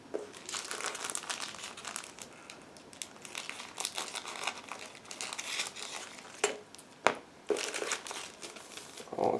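Plastic bag holding the transparent sprue of a Zoukei-Mura 1/48 F-4S Phantom II model kit being torn open, with close, continuous crinkling and rustling and a few sharper crackles near the end. No voices.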